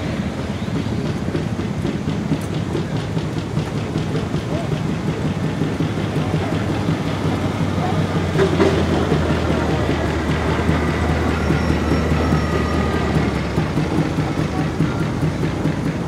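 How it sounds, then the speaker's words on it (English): A 25 horsepower Kitten steam engine rolls past in a club parade, producing a steady, continuous low rumble and chuff with faint mechanical rattle throughout, no voices over it. "Next engine coming around the bend, this is a 25 horsepower Kitten engine"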